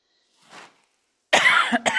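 A faint breathy sound, then a sharp, close cough followed by a second shorter cough.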